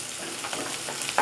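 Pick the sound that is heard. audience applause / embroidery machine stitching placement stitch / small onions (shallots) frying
small onions (shallots) frying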